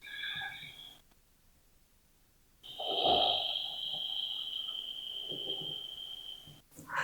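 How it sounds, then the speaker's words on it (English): Ujjayi pranayama breathing through a constricted throat: a breathy hiss on one breath, a pause of near silence, then a longer, louder hissing breath drawn close to the microphone. "funneling the breath through the back of your throat by constricting it. Making that hissing sound as you go."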